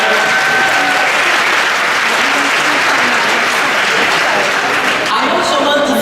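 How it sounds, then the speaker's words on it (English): A London speaking-event audience breaks into a full round of applause, dense steady clapping filling the room for about six seconds, with faint crowd murmur near the end. "I want all of you to give a round of applause"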